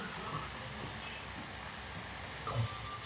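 Potatoes and tomatoes with spices fry in a pan on a home stove, a soft continuous sizzle running throughout, fairly faint, with a brief stir or clatter near the end.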